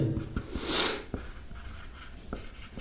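A marker or chalk writing on a board during a university commerce maths lesson on decision theory, heard as soft scratchy strokes with a few light taps, close and fairly quiet, with no speech over it.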